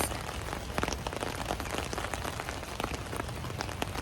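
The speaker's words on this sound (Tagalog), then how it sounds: "Umuulan guys." Rain patters rapidly on a taut umbrella overhead, with crisp individual drops ticking irregularly over a steady wet hiss, close by.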